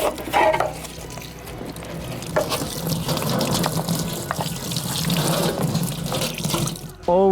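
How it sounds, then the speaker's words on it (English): Water from a tap gushes steadily into a coffee processing machine, rinsing away dirt and old stuck beans in Timor-Leste, a continuous close splashing flow that runs for several seconds and breaks off with a clatter at the end. "we're going to wash away part of the dirtiness of the machine"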